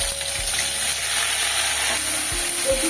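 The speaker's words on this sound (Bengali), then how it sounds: "তেলটা গরম হয়ে গেছে, এইবার তেলের মধ্যে আদা বাটাটা দিয়ে দিলাম।" Ginger paste spits and sizzles in hot oil in a kadai for a pea kachori filling, a steady bright frying hiss with faint soft clinks near the end, no talk.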